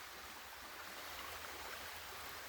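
Creek water flows steadily with a continuous, even rushing hiss and no other distinct sounds.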